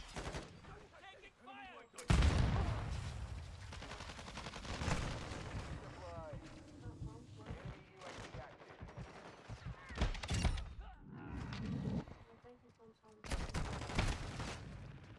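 Expedite 12 shotgun fire in Call of Duty: Modern Warfare II, heavy booming shots among other gunfire, with a voice talking between and over the blasts.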